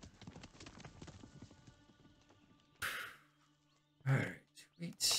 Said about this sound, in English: Saddle the horse.